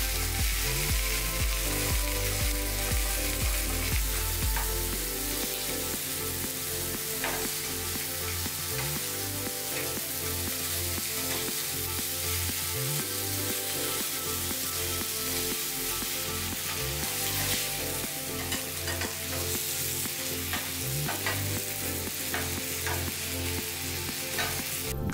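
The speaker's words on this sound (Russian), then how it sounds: "Обжарим рядом с бифом." Thin ham slices sizzle as they fry beside beef in a hot pan while a sandwich is prepared, a steady close crackling and hissing that runs on without a break and with no talk.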